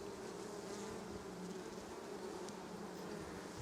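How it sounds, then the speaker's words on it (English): Honey bees at an open hive during a Varroa mite strip treatment make a dense, steady, close buzz that fills the whole moment, with no talking. "Alright, the bees are getting a little feisty."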